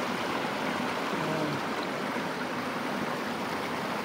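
Small river flowing near a rural village in Cadiz City, Negros Occidental, a steady broadband rush of water throughout, close and continuous with no voices.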